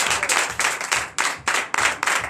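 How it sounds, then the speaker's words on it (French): At a Sunday worship service in Benin, a congregation claps in loud bursts that come in a rough rhythmic pattern, each surge breaking off and starting again, with no speech over it. "Donnez de vive acclamation."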